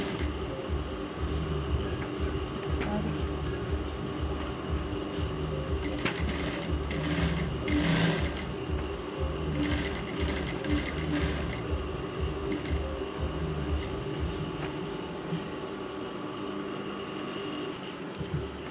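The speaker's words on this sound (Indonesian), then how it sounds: "Jahitlah sekeliling dia." A sewing machine stitches around the edge of an envelope clutch, a steady continuous mechanical whir with rhythmic needle clatter that briefly intensifies midway, close and alone with no talk.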